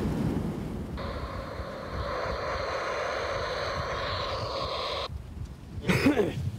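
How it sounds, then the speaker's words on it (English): Big, tightly spaced ocean waves break at a beach in a steady, loud rushing roar mixed with wind buffeting the microphone, swelling into a heavier surge near the end. "the waves are really tight and they're pretty big"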